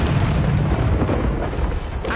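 A fiery spell blast from the Hogwarts Legacy video game erupts as a loud, dense booming rush, steady and close, with a brief crackling flare near the end.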